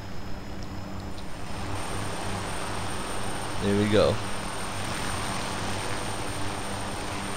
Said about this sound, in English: we are flying in our chopper